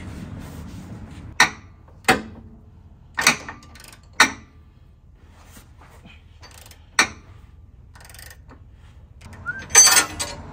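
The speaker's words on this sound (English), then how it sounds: "Now we can tighten these bolts on the actual track bar itself." Torque wrench clicks on track bar bolts of a lifted Toyota being tightened to 96 foot-pounds: about six sharp, separate metallic ratchet snaps spaced a second or two apart in a quiet garage.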